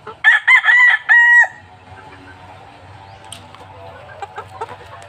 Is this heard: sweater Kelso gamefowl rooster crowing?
yes